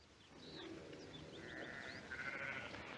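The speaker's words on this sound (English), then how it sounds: "Now, Drummond, get those sheep out now." Sheep bleat faintly in an outdoor flock, several wavering calls overlapping at a distance against a low background murmur.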